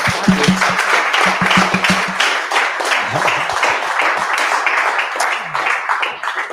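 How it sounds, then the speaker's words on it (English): Audience applause for a presenter at a tech meetup, steady clapping from a small room that carries on for several seconds, with a few close, distinct claps near the start. "I just want to say a huge round of applause and thanks for Chetan."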